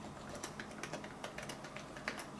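Typing on an extremely quiet rubber dome keyboard, a librarian-style board: soft, muffled keystrokes patter in an uneven run, faint and close with no voices.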